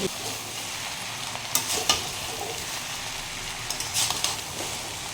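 Rice and egg are stir-fried with vegetables in a pan for Chinese-style egg fried rice, giving a continuous sizzle with a few sharp scrapes and clinks of the spatula, close and without talk.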